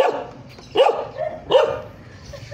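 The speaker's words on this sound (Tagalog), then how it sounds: "The dog is so noisy." Dogs bark in two or three sharp, separate outbursts against a quiet outdoor background.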